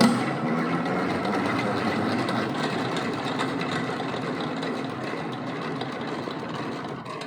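Honey extractor spinning with a steady mechanical whir and rattling drone, close and continuous for several seconds, fading slightly toward the end.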